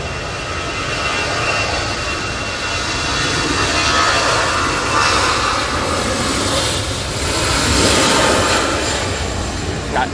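EasyJet airliner on approach to Manchester Airport, crabbing into a stormy crosswind: loud, close jet roar that swells and fades in waves over gusting wind noise.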